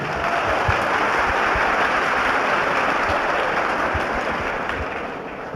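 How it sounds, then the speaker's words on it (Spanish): Steady audience applause for a speaker at a Spanish-language religious debate, a full continuous roar of many hands clapping that holds level and tapers slightly at the end. "Bueno, un aplauso pues para el hermano."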